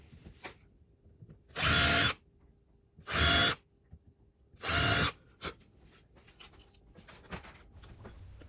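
A power drill with a Phillips bit reams out screw holes to countersink them, in three short loud bursts of about half a second each with quiet pauses between, during a small garage organizing build.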